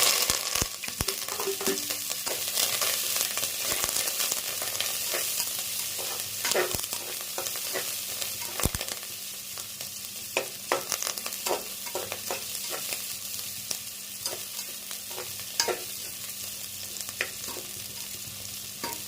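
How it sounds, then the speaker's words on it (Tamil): Onions and curry leaves fry in a pan for a curry, giving a steady crackling sizzle throughout with occasional sharper pops and stirring scrapes, close and unaccompanied by talk. "வெங்காயம் நல்லா பொன்னிறமாக வதங்கணும்"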